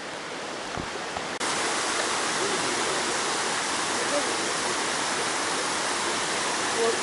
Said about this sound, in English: Stream crossings on the trail, actually on the road to the trailhead